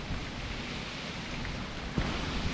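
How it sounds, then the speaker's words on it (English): Heavy rain falls on a Louisiana residential street during Hurricane Laura, a steady dense hiss with one brief louder splash or knock near the end. "The wind has died down, but the rain continues."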